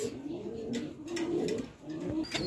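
Pigeons at a breeding farm coo in low, repeated soft calls close by, with faint chirps above and background murmur.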